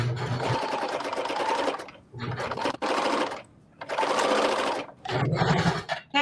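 A serger sewing machine stitching a cream dress, running in loud, steady whirring bursts of about two seconds each, separated by short pauses, close and clear with no talking.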